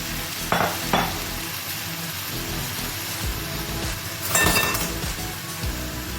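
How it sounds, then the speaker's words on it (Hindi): Chicken liver and kidneys frying on a large, wide tawa for kata kat, with steady close sizzling and clattering stirs: two quick scrapes early on, then a louder burst of stirring near the end, and no voices. "अब इसके अंदर मैं ये सारे कलेजी गुर्दे ये सब मैंने डाल दिए इसके अंदर।"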